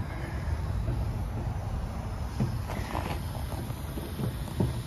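Strong night wind roars steadily across the microphone, a constant broadband rush with a few faint knocks and rustles mixed in.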